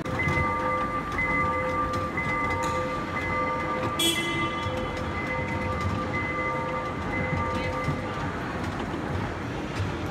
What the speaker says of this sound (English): And the train will be coming to us.